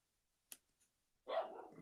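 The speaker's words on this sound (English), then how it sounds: "Dog's barking again." A single dog bark sounds from nearby after a short click, then trails into a longer, rougher yelp-like burst, fairly faint overall against near silence.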